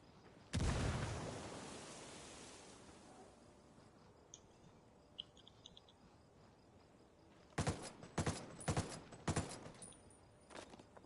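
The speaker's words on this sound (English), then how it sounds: "Grenade! Frag out. Taking heavy fire." Gunfire and grenade explosions in the online shooter game Wildland Online: one loud blast early on, faint metallic clicks, then a rapid cluster of sharp gunshot bursts near the end, with no speech.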